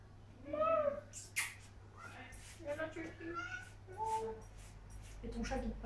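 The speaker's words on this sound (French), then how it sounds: "Et ton chat qui te parle." A house cat meows several times indoors, short chirping calls repeated at uneven intervals and fairly close, set against a low steady hum.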